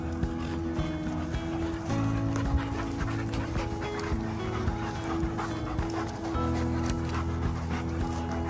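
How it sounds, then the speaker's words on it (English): Dogs panting rapidly and repeatedly close by, a steady rhythmic breathing that continues throughout, with faint background noise. "Doggies."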